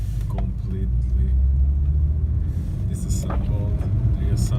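Steady low road rumble from a BMW's cabin while driving, with faint intermittent rattles and clicks over the constant engine and tyre drone, and a voice speaking over it.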